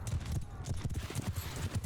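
Horse hooves pounding in a rapid galloping rhythm during a battle in the medieval combat game Mount & Blade II: Bannerlord, close and steady throughout, with voices talking over them.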